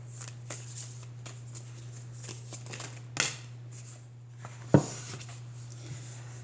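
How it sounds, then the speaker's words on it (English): Louise L. Hay "How to Love Yourself" oracle cards being handled, with a soft continuous shuffling rustle and two sharper snaps of cards being pulled from the deck, close and quiet over a low steady hum. "we'll just keep pulling cards and see what happens to come through"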